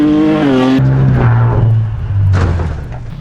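A luxury car with its front end destroyed after a jump, still driving: a loud, close engine drone with rising and falling tones, a brief lull partway through, then a renewed surge that fades toward the end.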